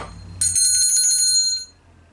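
A single bright bell rings out with a sustained, shimmering metallic tone lasting about a second before fading, introducing a segment of a Spanish-language studio show.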